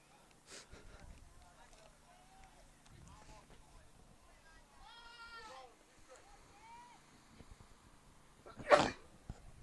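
A single sharp sneeze bursts out near the end, following a stretch of quiet background chatter and scattered noises at a youth baseball game.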